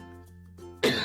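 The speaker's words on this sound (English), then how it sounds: "He says as he coughs." A man gives a single short cough at the very end, abrupt and close after a quiet stretch.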